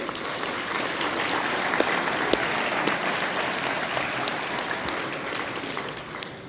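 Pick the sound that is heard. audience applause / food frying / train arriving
audience applause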